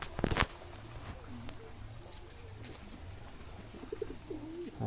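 A pigeon coos repeatedly in low, soft, rolling phrases against a steady hiss, with a couple of brief clacks near the start.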